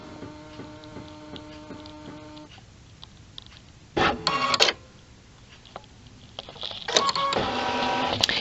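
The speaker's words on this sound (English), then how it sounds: "we're going to go ahead and click scan and leave the machine find that sticker" A Baby Lock Solaris embroidery machine scanning for a placement sticker gives a steady mechanical hum and whirring, then a louder motor burst partway through and renewed buzzing toward the end, close and without talk.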